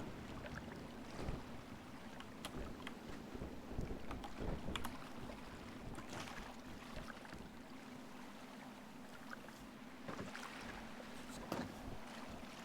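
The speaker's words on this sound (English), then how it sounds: "These waves are coming in weird too." Ocean water sloshing and lapping around a small boat out at sea in the game GTA V, with a steady low hum beneath repeated splashing slaps and gusty wash, fairly quiet and continuous.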